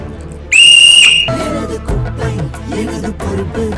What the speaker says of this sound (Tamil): விசில்னதும் விசில கொண்டு வந்துட்டீங்க